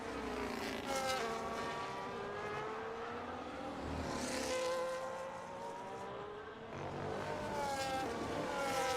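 A Ferrari race car laps in a racing video game, its engine whining steadily with rising and falling pitch through gear changes, loud and continuous with no voice over it.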